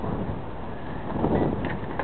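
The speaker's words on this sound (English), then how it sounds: "I need to get the wind slow down a little bit" Wind blows outdoors as a broad, steady rush that buffets the microphone and swells slightly near the end, with no voices.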